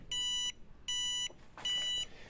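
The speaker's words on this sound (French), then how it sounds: "tu peux pas l'oublier avec le bip bip" A wireless turn signal for a scooter or bike gives three evenly spaced, loud electronic beeps, each lasting about half a second, with no talk over them.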